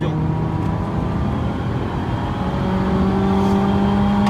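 Honda Civic VIII engine running at steady high revs, a sustained loud drone with a whirring tone, close by and continuous, with no speech over it.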